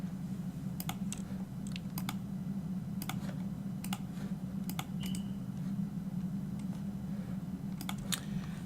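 Someone types on a computer keyboard with the microphone right beside it: scattered, crisp, close key clicks over a constant low hum, arriving in irregular bursts.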